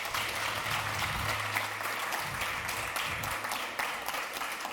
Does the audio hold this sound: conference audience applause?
yes